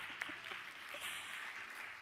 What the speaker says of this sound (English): Another round of applause as they